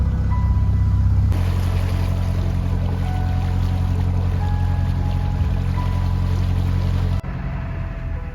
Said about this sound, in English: Boat coming towards us